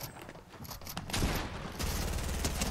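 Fortnite gunfire, a rapid rattling burst growing louder partway through and continuing steadily to the end, with no talk over it.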